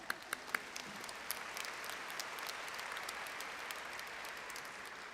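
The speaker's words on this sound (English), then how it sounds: "let's applaud that" A large graduation ceremony audience applauds in a steady, dense wash of clapping that sounds distant and fairly faint throughout, with a few sharper claps standing out near the start.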